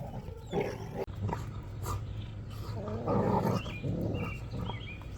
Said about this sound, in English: Dogs are running crazy.